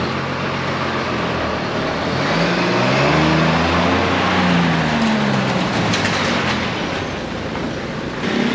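A bus drives along Mirissa beach road on wet pavement after rain. Its engine rumbles loud and close, rising and falling as it passes, over steady tyre and traffic noise.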